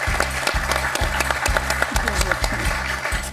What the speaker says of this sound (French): on peut applaudir ce magnifique 4 à la suite de Francis